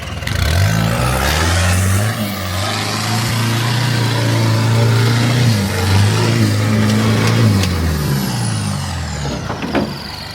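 An off-road 4WD engine revs hard while climbing, a loud close droning note rising and holding steady, then dropping near the end.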